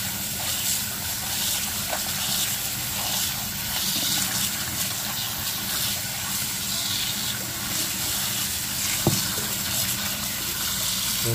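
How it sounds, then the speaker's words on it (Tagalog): Water running steadily from a tap while jute (saluyot) leaf tops are washed, a continuous close gushing hiss with faint splashes of handling. "So, hugasan na po natin itong talbos ng saluyot."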